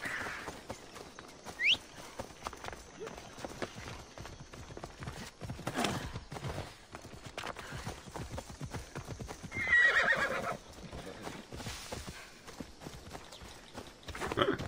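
Horse hooves clip-clop steadily in Assassin's Creed Odyssey, with a couple of short whinnies and snorts standing out over faint ambient game sound.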